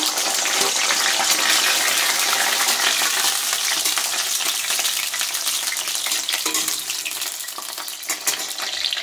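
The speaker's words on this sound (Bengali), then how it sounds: "এবার এই বেগুনগুলো একটু ভেজে নেব" Eggplant pieces frying in oil in a pan, a loud, dense, continuous sizzle with crackling and some stirring close by.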